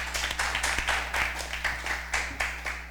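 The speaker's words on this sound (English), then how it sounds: "Please give her a round of applause" A room at a junior science quiz applauds the timekeeper, a fairly sparse round of clapping with uneven surges over a steady low electrical hum.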